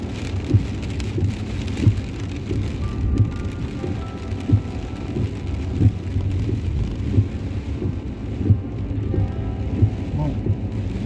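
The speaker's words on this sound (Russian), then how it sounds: "здесь благо дождик, дожди не кислотные" Steady rain falls on a Jerusalem street where cars are parked outdoors, a continuous wash of drops with faint rumbles that suggest distant thunder, no talk over it.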